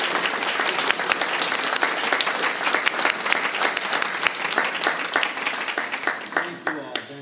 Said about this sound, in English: can you all join me in giving a round of applause to our teachers and support staff?